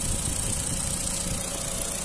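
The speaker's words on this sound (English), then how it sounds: "engine sound very nice and smooth" A 1.4 petrol Ford Fiesta Freedom engine idles smoothly, a steady close rumble with no change in pitch or level.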